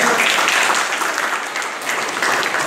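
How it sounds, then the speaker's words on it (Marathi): Loud, sustained applause from an audience at a sports academy award ceremony, a dense wash of clapping that stays steady throughout with only slight dips in intensity. "जोरदार टाळ्या मिळवणे."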